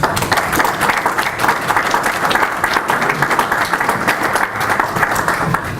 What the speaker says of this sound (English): can we give Andy a warm round of applause, please?